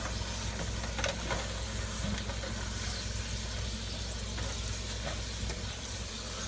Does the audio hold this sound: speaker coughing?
no